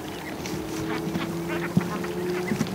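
Ducks raised for charity call from around a lake at an early-morning swim, with a few scattered quacks and honks over a steady outdoor background, fairly faint and spread out.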